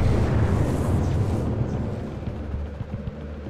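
An intercepted tactical weapon blows up in the real-time strategy game Act of War during a desert siege: a heavy, low rumbling blast that gradually fades, with a few smaller thumps trailing off.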